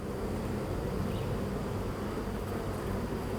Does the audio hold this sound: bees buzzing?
yes